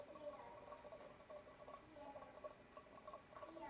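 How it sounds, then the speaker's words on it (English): Wine poured from a bottle through an aerator into a glass, a quiet continuous trickle and gurgle with small dripping splashes, steady and close. "I'm just going to pour a little bit for now"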